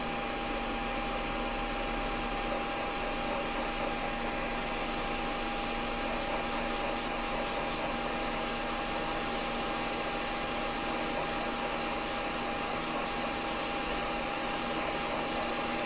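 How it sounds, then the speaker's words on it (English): A hot air rework tool blows a steady, loud whooshing stream while desoldering components on a GTX 260 graphics card, an unbroken fan-like roar with no talking. "Turn the preheater up. Get the hot air."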